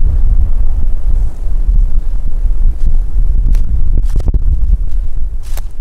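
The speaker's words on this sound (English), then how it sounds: "It's pretty windy." Steady, roaring wind buffets the microphone on a mountain trail in snow and freezing rain, a loud continuous rumble with occasional gusty crackles.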